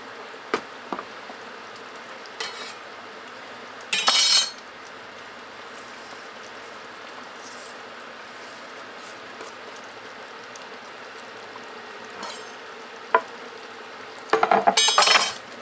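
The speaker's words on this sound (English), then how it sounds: "let's throw in our chopped onions" Chopped onions go into a pan of freeze-dried Mongolian ground beef and get stirred, heard as a steady low hiss punctuated by a few bursts of spoon-on-metal scraping and clinks, close by with no speech.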